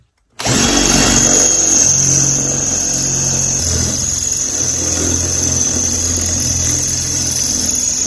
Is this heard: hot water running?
no